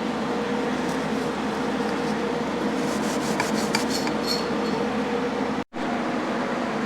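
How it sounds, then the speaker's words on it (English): A stainless steel wire brush scrubs over magnesium being prepared for welding, a steady harsh rasping that runs throughout, with a few quicker strokes near the middle and a brief dropout near the end. "get in there with a stainless steel brush and again clean it"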